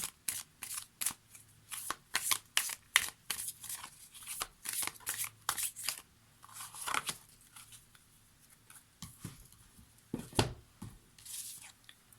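Oracle cards shuffled by hand during a tarot reading, a close run of quick riffling flutters and soft slaps repeating in bursts, with brief pauses between shuffles and no talking.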